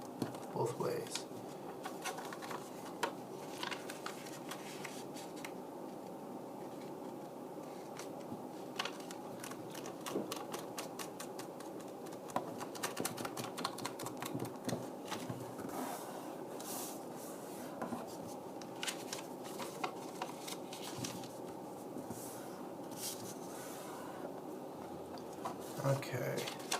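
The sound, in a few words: folding origami paper for modular cactus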